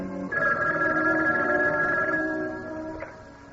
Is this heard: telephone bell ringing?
yes